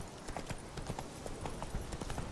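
In The Witcher 3, the horse Roach gallops with a quick, steady clip-clop of hooves. The hooves are faint and somewhat distant, over a constant background wash.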